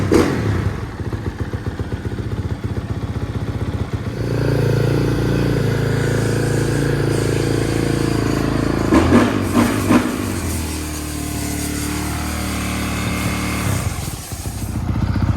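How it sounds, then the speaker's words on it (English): A 2021 Honda CRF450R converted into a trike runs on a test ride with a continuous loud engine drone, shifting pitch as it accelerates and eases off, with some clatter and no talking. "We got a 2021 CRF450R."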